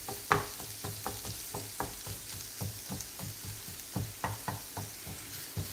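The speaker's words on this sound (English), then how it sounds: "So I'm gonna lightly fry this onion." Onions fry in a pan for a Bangladeshi loitta shutki curry, with a steady broadband sizzle under a run of regular knocking taps from stirring or breaking up the onions, close and fairly quiet, with no talk.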